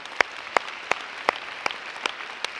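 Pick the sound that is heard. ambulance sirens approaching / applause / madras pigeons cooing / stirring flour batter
applause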